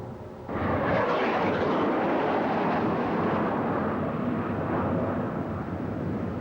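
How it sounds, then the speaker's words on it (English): A Harrier jet at a dawn firepower display over the Falklands, a sudden loud roaring blast that holds as a broad sustained rumbling rush for several seconds. "A dawn display of the Harrier's firepower."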